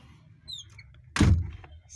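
A car door thuds shut once, close and fairly loud, a short solid knock against a quiet background with faint scattered noises.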